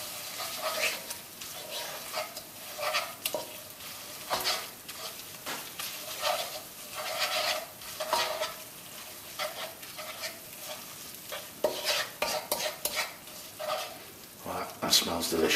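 Thai yellow curry paste cooks over moderate heat in a pan, giving a steady low sizzle broken by repeated scrapes and stirs throughout, with a voice talking at times over the cooking.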